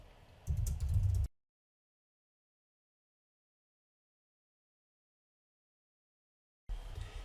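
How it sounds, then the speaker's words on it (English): Typing on a computer keyboard comes in a short quick burst of close key clicks, then long silence, then typing resumes at the very end. "We'll type an example answer here."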